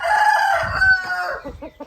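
A Gaoi Ngon fighting rooster crows once up close, a loud strained call that holds and then breaks into a few short clucking notes at the end.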